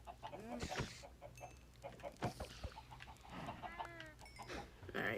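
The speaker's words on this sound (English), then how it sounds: "That's one weird looking chicken." A chicken in a video game clucks repeatedly in short, choppy bursts over a low, steady background hum, with a few higher squawks mixed in.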